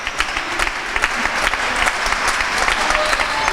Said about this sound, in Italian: Questo è il lungo applauso del Palavienna